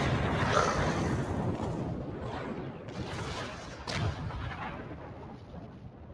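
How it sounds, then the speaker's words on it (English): Torpedoes launch from a starship in Star Trek Online, a loud rumbling whoosh followed by further deep booming bursts that fade gradually. "Torpedoes away."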